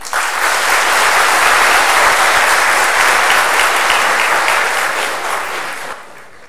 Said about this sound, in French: veuillez applaudir Monsieur le directeur de Subcom, Monsieur Mounir Fliha